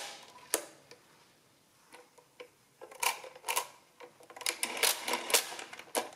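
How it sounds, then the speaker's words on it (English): Pulling the clearing lever on a Triumphator CRN2 pinwheel mechanical calculator produces a series of sharp metallic clicks and ratcheting clatter, sparse at first and then bunching into quicker bursts toward the end. "So if I want to clear both, I'll move both of these down and pull this clearing lever."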